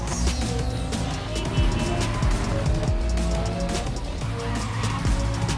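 A car in the video game Cyberpunk 2077 with a 4-liter six-cylinder engine roars loudly and continuously, revving hard with squealing, skidding tires throughout; no voices are heard.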